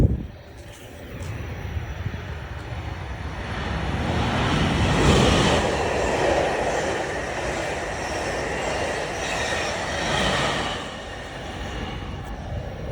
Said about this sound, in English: to see trains go by on the high-speed line